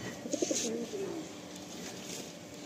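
Madrasi pigeons coo softly in short rolling phrases near the start, then continue faintly over a low background hum in a pigeon-keeping setting.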